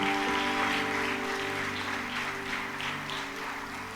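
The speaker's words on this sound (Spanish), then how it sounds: "Ahora dale palmas de alabanza al Espíritu Santo por la fuerza" A church congregation claps together in praise during a sermon, a steady, dense wash of many hands over sustained music with held tones, with no talking.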